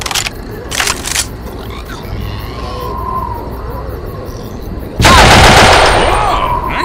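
Video game gunfire from a squad assault heading into Vienna: a couple of early bursts near the start, then a loud, sustained blast of shots near the end.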